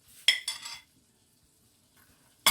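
Tomatoes and cashew nuts stirred in a cooking pan, a few quick scraping clinks of a spoon against metal followed by quiet and one last close clank.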